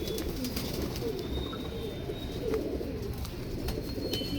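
Golden pigeons coo steadily on a rooftop in Jammu's old city against a dense backdrop of bird chatter and flapping, busy and close, with no voices.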